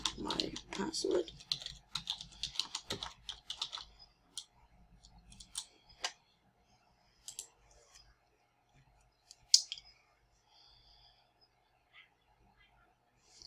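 A computer keyboard clatters with quick, close key taps and clicks for a few seconds, then thins to a few scattered clicks amid near silence.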